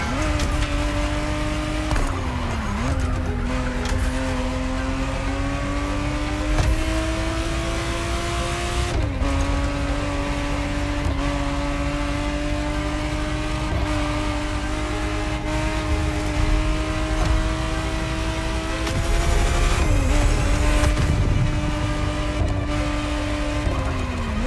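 A 1991 Ferrari Testarossa 512 races in The Crew Motorfest, its engine droning loud and steady with pitch climbing through gears, brief dips at shifts and occasional tire squeal, alone throughout.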